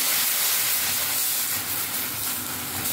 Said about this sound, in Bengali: এবারে গরম তেলের মধ্যে ব্যাটার চলে যাচ্ছে।